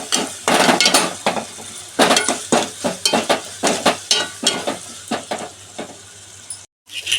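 Crab and prawn tomato curry being stirred in a pan, a spoon scraping and clattering in a steady run of close, loud strokes over a low sizzle, with a brief gap near the end.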